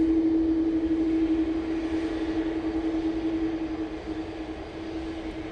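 An EasyJet Airbus A320neo jet departing Manchester for Nice, a steady droning engine roar with a sustained whine, fairly close and gradually easing in loudness, no talk.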